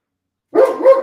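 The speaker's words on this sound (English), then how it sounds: "your dog's gonna make my dog start barking" Dog barking close by, two quick loud barks in a row after a moment of silence, with no talking.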